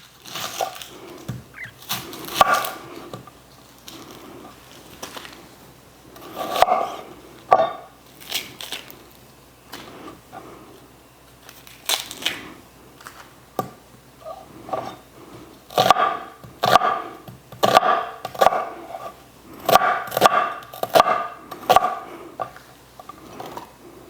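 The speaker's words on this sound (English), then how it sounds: "the last thing we're going to chop is 1 cup of onion" A knife chops through an onion on a cutting board in uneven runs of quick, close taps against the board, with short pauses between bursts.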